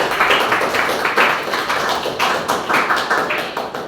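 Applause from a classroom group after a student presentation, a steady, fairly loud burst of many hands clapping together, close by and without speech.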